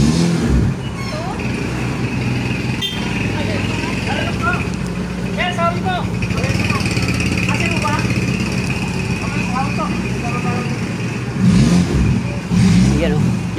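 An engine runs steadily during a road test of a vehicle after brake lining work, with people talking over it and the engine swelling louder in revs toward the end.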